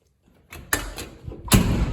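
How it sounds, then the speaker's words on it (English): Car door of a Suzuki Samurai being worked, a short series of metallic thumps and clunks building to a louder bang near the end, close up, with no voices. "I've got the door"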